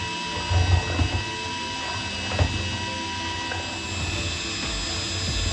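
A power drill mixing resin whirs steadily up close, its motor whine constant, with a few knocks and clatters early on.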